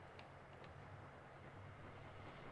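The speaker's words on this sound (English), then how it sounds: "Yeah, the train is going." A distant train rumbles steadily past in The Sims 4 video game, a low continuous drone that stays faint and even throughout, with no talking.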